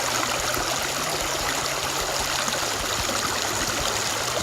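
Mission Creek rushes steadily through a small canyon, a continuous close, moderately loud stream flow with gurgling water and no voices.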